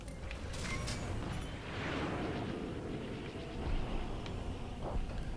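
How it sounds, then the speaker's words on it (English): Missiles launched at Y-wing starfighters in the Star Wars Squadrons space combat game, heard as a steady roar of rushing, explosive whooshes with a few sharper bursts near the end, no talking. "Fire off all those missiles."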